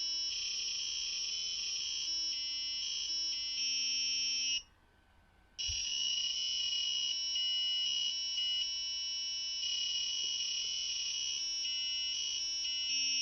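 An Arduino-driven piezo buzzer plays a simple tune, stepping between shrill, harsh electronic tones, pausing once for about a second, then continuing.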